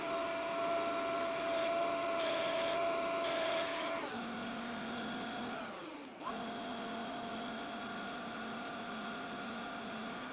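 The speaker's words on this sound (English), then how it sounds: "I really love CNC for those like blended radius moves." A CNC machine cuts a blended radius on a part ahead of a thread undercut, a steady whining machining tone whose pitch drops and shifts midway, continuous and close with no talk.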